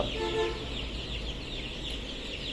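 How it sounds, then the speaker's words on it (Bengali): Soft clucking and peeping from a group of Tiger breed chicks before morning feeding, brief harmonic calls early on over a steady background hiss, fairly close. "আমরা টাইগার মুরগির বাচ্চাদের খাবার দিব সকালবেলা ওরা খাবারের জন্য উন্মুখ হয়েছে"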